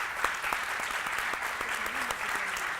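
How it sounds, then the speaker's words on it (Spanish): An audience at a journalism forum in Tucumán applauds with dense, steady clapping throughout, fairly close, with faint voices mixed in. "Un aplauso"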